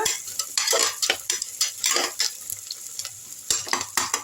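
Onions and spices sauté for chicken biryani in a pressure cooker, sizzling close up while a metal spoon scrapes and stirs in quick irregular strokes, with no talking.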